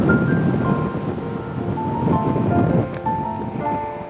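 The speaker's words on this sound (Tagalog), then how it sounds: "Lakas pala ng hangin dito." Strong wind blowing outdoors on a hike in Pakistani village country, a loud, steady broadband rush that gusts slightly and persists throughout without talk.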